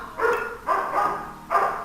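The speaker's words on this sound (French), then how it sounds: "Désolé pour mon chien qui gueule" A house dog barks three times in quick succession, each bark loud and close, with short gaps between and no one speaking over it.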